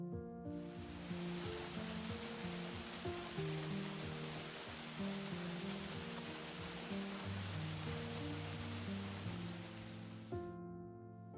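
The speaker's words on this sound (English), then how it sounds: "Kuang Si Falls is a multi-level waterfall about 18 miles south of Luang Prabang" Kuang Si Falls, a multi-level waterfall near Luang Prabang in northern Laos, as a constant broadband roar of rushing water beneath steady background music tones.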